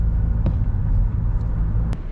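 A car on the Red Rock Canyon scenic drive near Las Vegas, heard from inside as a loud, steady low road rumble with a couple of faint clicks and no talking.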